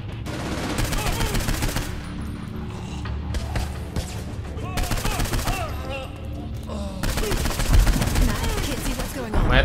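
Heavy gunfire and shelling during an alien invasion assault in the game Saints Row 4 build a continuous barrage of overlapping shots and thuds, loud throughout, with voices faintly woven in.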